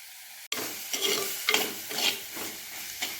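Curry leaves drop into hot oil with a sudden sharp crackle, then the pan keeps sizzling steadily while a spoon stirs through it in a few scraping sweeps.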